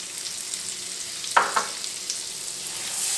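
Butter and a spoonful of flour cook over garlic in a frying pan, hissing steadily up close, with two quick scraping stirs partway through.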